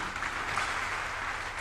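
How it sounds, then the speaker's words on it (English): Brief burst of audience clapping at a university college ceremony, a steady wash of applause at moderate volume. "Can we clap for the founder once again?"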